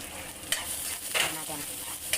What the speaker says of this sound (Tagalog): Halo. Bawang, sibuyas, tsaka luya.